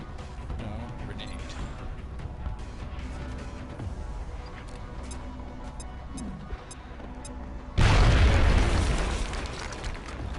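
A grenade explodes in XCOM: Enemy Within, a sudden loud broadband burst that stays dense and roaring for several seconds after a quieter stretch of ambient game sound.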